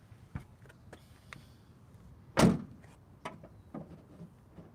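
A 2020 Land Rover Defender 110 SE door swings shut with one solid, broadband thud midway through, close by, against a quiet background with a few faint knocks.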